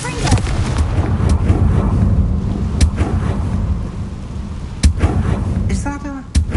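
A Confringo fire spell blasting in the Hogwarts Legacy video game: a loud, continuous rumbling roar with sharp, booming bursts, one especially strong near the end.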